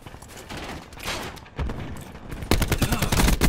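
Rapid gunfire in a video game shootout, dense bursts of shots that grow louder and more intense toward the end.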